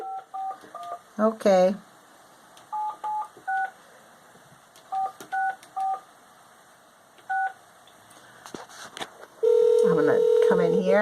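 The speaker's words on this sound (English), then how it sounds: "I need to dial a 1, so hold on." Touch-tone telephone keypad beeps, dialed in short clusters of two or three tones with pauses between, followed by a steady ringback tone near the end, with a brief spoken word in between.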